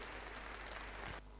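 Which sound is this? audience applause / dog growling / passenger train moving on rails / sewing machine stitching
audience applause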